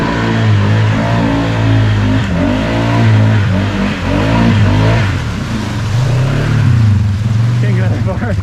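A 2020 CFMoto Cforce 600 ATV churns through mud in four-wheel drive, its engine loud and close, revving up and down continuously.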